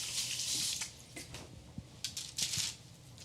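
Tap water splashes and patters as hands are wetted under a running faucet while making gluten-free bun dough, in soft uneven bursts close by.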